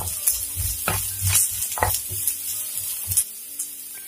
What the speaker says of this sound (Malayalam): ഇനി നമുക്കിതിലേക്ക് ഒരു സവോള ചെറുതായിട്ട് അരിഞ്ഞത് ചേർത്ത് കൊടുക്കാം. അതിനുശേഷം അതും കൂടെ നമുക്കൊന്ന് വഴറ്റിയെടുക്കാം.